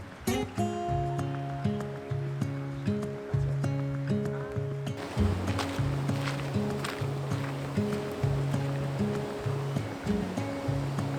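A river flows steadily beside a campground, its broad rushing wash carrying on throughout beneath loud melodic music.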